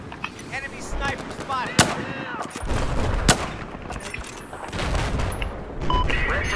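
Machine gun fire in the Battlefield 4 video game, a dense barrage of rapid shots and booming impacts running continuously throughout, with radio-style voice chatter mixed in.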